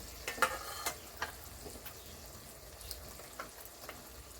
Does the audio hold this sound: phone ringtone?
no